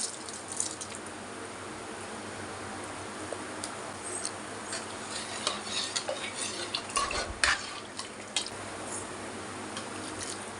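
Soaked rice is tipped into a pan of cooking tomato rice and stirred, giving steady scraping and clinking of a spoon against the pan over a soft sizzle, with a brief louder knock near the middle.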